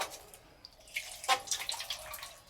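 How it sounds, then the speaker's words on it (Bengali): Whole cabbage being rinsed under a running kitchen tap, a soft, fairly quiet stream of water with brief splashy surges as the head is turned in the flow, no voices. "এবার কপিটাকে ধুয়ে নেব"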